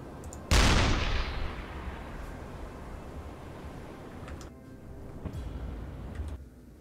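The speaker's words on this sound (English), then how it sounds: "Let's see what happens if I fire a warning shot across them." A deck-gun warning shot from a U-boat in the naval game UBOAT booms once as a loud, sharp blast, then fades into a long rumbling tail over steady ambient sea noise.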